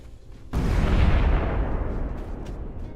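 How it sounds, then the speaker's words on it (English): After a brief quiet moment, a sudden loud video game bomb explosion erupts into a rumbling, crackling blast that slowly fades, with faint pops trailing afterward. "Those explosions are so violent."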